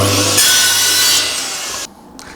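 A handsaw cuts excess wood off a workshop clamp rack, a loud rasping stroke or two of the blade through timber that stops abruptly near the end.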